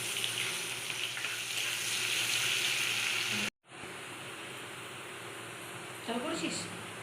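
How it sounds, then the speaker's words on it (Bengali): Chopped onions fry in hot oil with a steady, close, dense sizzle that cuts out briefly and then resumes, accompanied by a few light stirring clinks. "তেলটা গরম হলে পেঁয়াজ কুচিগুলোকে ছেড়ে দিন এবং লাল করে পেঁয়াজগুলো ভেজে নিন।"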